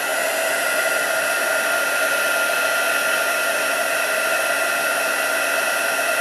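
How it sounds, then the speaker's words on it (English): Heat embossing tool blowing hot air to melt sparkle embossing powder on a card, a steady, close, loud whirring hum that never pauses. "And as always with heat embossing, you want to start getting it melting and then move on."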